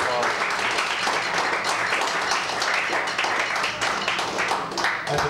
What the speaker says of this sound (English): Please give her another really warm round of applause.